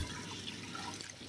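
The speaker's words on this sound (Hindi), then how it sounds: "देगची में पानी डाल देंगे चावल उबालने के लिए।" Water pours in a steady stream into a cooking pot to boil rice for chicken aloo biryani, a brief, fairly quiet, continuous splashing with no talk.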